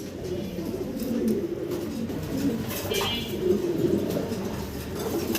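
Fancy pigeons coo softly in low, repeated phrases, a steady murmuring chorus at close range with faint background noise.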